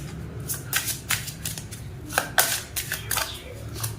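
A deck of tarot-style cards is shuffled for a card reading, giving a run of crisp riffling and flicking bursts, close and fairly quiet, repeated unevenly over a low background hum.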